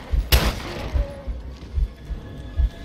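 Gunfire in the survival horror video game Resident Evil Revelations 2, one sharp loud shot followed by a series of dull repeated thumps at a steady pace.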